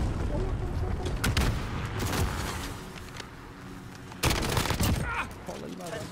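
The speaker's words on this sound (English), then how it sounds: "Cruise missile away." Call of Duty online match battle sounds around a cruise missile strike, sustained heavy gunfire and booming blasts with a sharp loud explosion burst near the end, dense and close throughout.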